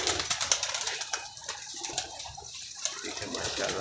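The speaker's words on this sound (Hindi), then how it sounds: "ये भी इनके उड़े हुए कबूतर हैं" Pigeons on a rooftop loft, a fancier's paired and flying birds, give soft scattered coos and flutters against a hissy outdoor background, fairly close but not loud, with no talking.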